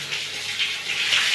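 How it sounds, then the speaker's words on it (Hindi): Water runs steadily from a newly fitted tap on a tiled wall shower mixer, a continuous bright splashing hiss with no one speaking. "देखिए पानी ये हमारा चालू हो गया"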